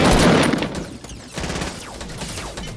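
Rapid bursts of automatic gunfire crackle in a Fortnite Battle Royale match, loud and dense at first, easing briefly, then resuming in a scattered volley of shots.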